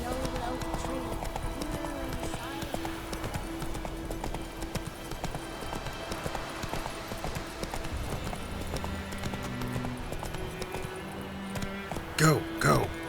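Roach the horse galloping in The Witcher 3, with steady rhythmic hoofbeats running under music and a voice, ending in a louder snort or whinny near the close.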